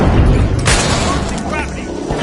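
Rocket blast in The Finals video game, a sharp booming burst at the start followed by crackling debris and game noise, with a commentator's voice shouting over the action.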